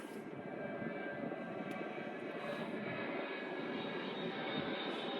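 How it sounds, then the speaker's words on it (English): Two fighter jets pass over an airport, a steady distant engine roar held at moderate level throughout with no talk. "I'm at the airport, y'all, and I see, is that 2 fighter jets?"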